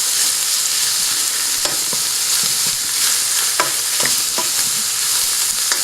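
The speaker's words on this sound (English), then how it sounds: "Let's stir that in." Chicken pieces sizzle steadily in a hot pan while a utensil scrapes and stirs them, giving scattered clicks and scuffs over a constant frying hiss, close and fairly loud with no talking.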